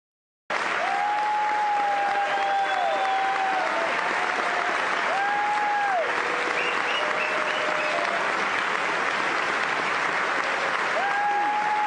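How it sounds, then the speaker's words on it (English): Sustained loud applause from members of Congress on both sides of the aisle, standing for Benjamin Netanyahu, a dense crowd clapping that continues steadily throughout, with scattered cheers rising above it. "this is just both sides of the aisle standing up and applauding Bibi Netanyahu"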